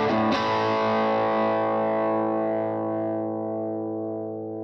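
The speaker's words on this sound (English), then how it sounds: "here's the 1-watt setting with just a simple chord" A single guitar chord is strummed through a Vox AC4TV tube amp at its 1-watt setting, giving a gritty, distorted tone that rings out and slowly decays over several seconds.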